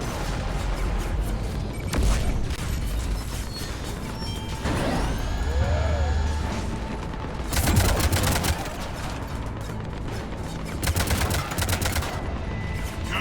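Heavy cannon fire in the Mass Effect video game, several loud rapid bursts of booming shots separated by quieter battle noise and a sweeping mechanical whir in between.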